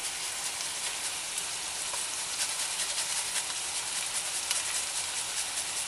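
Chopped onion and ginger frying in a pan for an Indian-style meat curry, a steady close sizzle with soft crackles and hiss, continuous and unchanging.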